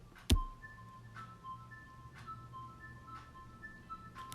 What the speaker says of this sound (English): Here's 70s synth ARP.